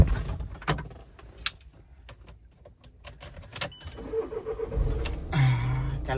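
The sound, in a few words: motorbike engine starting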